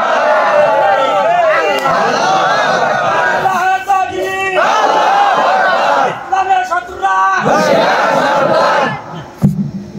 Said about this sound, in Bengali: স্লোগান দিয়ে দুহাত উঁচু করে দেখান।